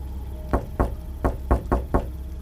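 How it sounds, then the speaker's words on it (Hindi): Heavy fists pound on a door in an animated horror story, six loud, close thuds in an uneven rhythm over a low rumbling background. "तभी बाहर खड़ा साया जोर जोर से दरवाजा पीटने लगा।"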